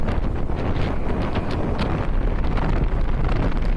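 Strong headwind buffeting the microphone while riding an Eahora Tiger Max electric scooter at top speed: a continuous, loud, rumbling roar of wind noise with no break.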